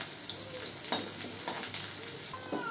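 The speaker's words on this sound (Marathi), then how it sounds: "तेल तापले, तेलामध्ये मी ठेचून घेतलेला लसूण टाकते." Crushed garlic sautéing in hot oil, a quiet continuous sizzle broken by a few light spoon scrapes as it is stirred, no talking.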